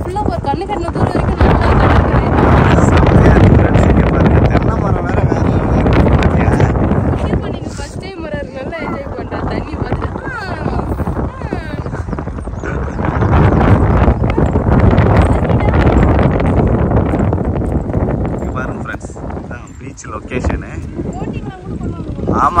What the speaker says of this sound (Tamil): நல்ல காத்து அடிக்குது